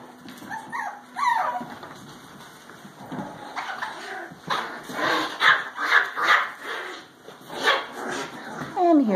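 Several puppies from one litter whimper, yip and bark close by, overlapping high whines and short barks coming in irregular bursts that grow busier toward the end.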